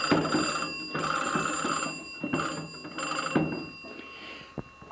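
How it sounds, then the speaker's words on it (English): An old household telephone's bell rings in repeated bursts with short pauses between, a bright metallic jangle heard fairly close, fading toward the end. "This is my dad's old phone."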